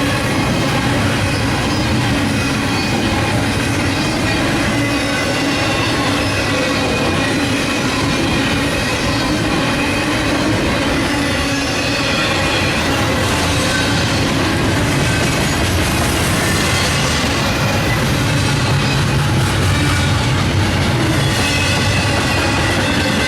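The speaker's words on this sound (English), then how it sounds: "The 231 is international intermodal traffic between Garden City and Savannah for Whitaker Terminal in Austell." A Norfolk Southern-style intermodal freight train hauling international container traffic rolls past trackside near Atlanta, loud and continuous, with steady wheel rumble, rhythmic clatter over rail joints and occasional high wheel squeal, no voices.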